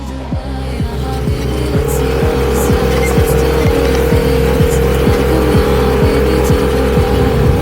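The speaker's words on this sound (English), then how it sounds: "That is our buggy. I guess you call it a dune buggy technically." A dune buggy engine drones loudly and steadily as it drives on desert sand, with a rapid rhythmic pulsing throb and a rising tonal whine partway through; no talking.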